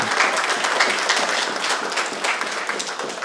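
An audience applauds a couple at a Sunday church service, with dense, steady clapping from many hands throughout and no break in the sound.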